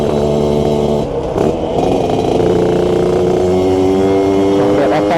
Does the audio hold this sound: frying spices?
no